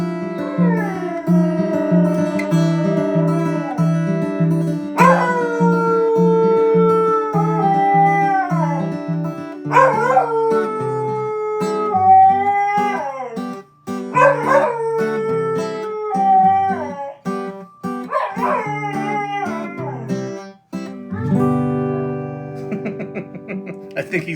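A dog howls along to a tune in long, wavering, tonal wails that rise, fall and glide over about twenty seconds. It is loud and close, with brief breaks between phrases.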